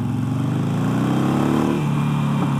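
A Harley-Davidson Sportster 1200cc motorcycle engine, Iron or Nightster model, runs steadily and loud with a rising then falling pitch, as if accelerating and shifting on a mountain road.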